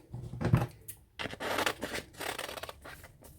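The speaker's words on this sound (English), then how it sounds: "So let me cut off the flower." Scissors snip through paper to cut out a vintage botanical flower image, giving several close, crisp cuts and rustles in a short burst.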